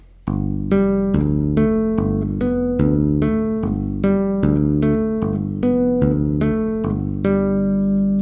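Bass guitar tapping with alternating melody and bass notes, a steady, even rhythm of clear plucked tones ringing out alone.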